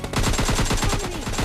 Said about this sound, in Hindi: आपका टीममेट मेरे टीममेट के ऊपर गोली चला रहा है